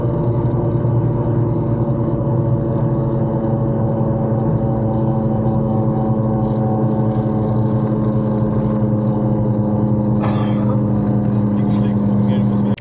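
Exhaust pipe of a car ahead in traffic in Leipzig, dragging on the road, heard from inside a following car as a steady loud scraping drone under engine and road noise, with a brief harsh burst near the end.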